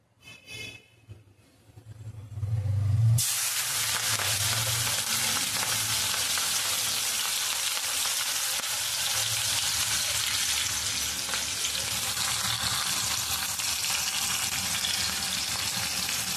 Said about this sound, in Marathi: आता आपण याच्यामध्ये हे लसूण आणि मिरची टाकून घेणार।